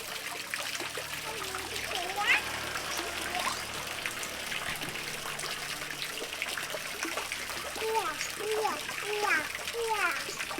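Leafy splashes and paddles while swimming, producing light, irregular splashes and trickling water that continue under chirpy high calls and a person's voice talking nearby.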